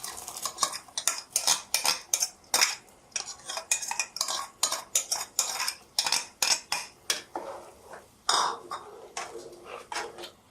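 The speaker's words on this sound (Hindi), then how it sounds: "पानी में दाल को मिक्स कर लें।" A spoon clatters against a metal pot in quick, uneven strokes as soaked moong dal is stirred into boiling water, the scraping and clinking loud and close, with no talking.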